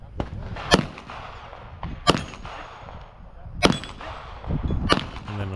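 Four sharp, loud Tabuk sniper rifle gunshots crack out at a DMR shooting match, spaced roughly a second or more apart, with clattering handling noise between shots.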